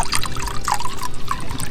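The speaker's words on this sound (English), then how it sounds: "Add some water in there along with it" Water poured into an MRE raspberry beverage base pouch, a short gurgling trickle with small splashy bursts, close and fairly clear over a bit of background noise.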